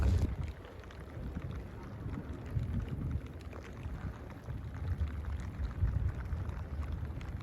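Rain falls steadily around a fishing boat off the Kerala coast, with a dense, continuous patter mixed with low wind rumble and no voices.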